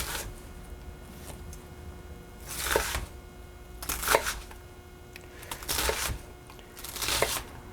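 A knife dices an onion on a cutting board, making a slow series of separate crunching chops, about five, each brief and close, with quiet pauses between them.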